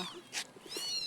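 A faint cat meows once, a short high wavering cry, against soft background noise.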